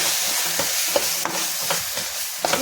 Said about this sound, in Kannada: ಜೊತೆಗೆ ಸ್ವಲ್ಪ ಗರಂ ಮಸಾಲೆ ಇಷ್ಟು ಹಾಕಿ ಫ್ರೈ ಮಾಡಿ